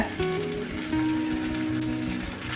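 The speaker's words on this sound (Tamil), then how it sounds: "இதை ஒரு ஒரு நிமிஷத்துக்கு வதக்கிக்கலாம்" Turkey berries and grated coconut sautéing in a pan for a Tamil thuvaiyal, a steady low sizzle with a few scraping stir strokes and a sharp clink near the end, no voices.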